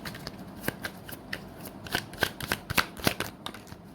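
Tarot cards being shuffled by hand, a run of quick papery riffles and flicks in uneven bursts, close and fairly quiet with no talk.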